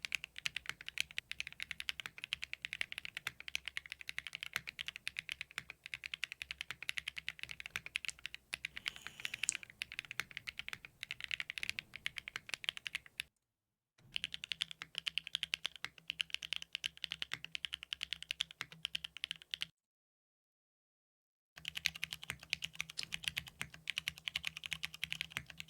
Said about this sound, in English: That most definitely sounds like a keyboard.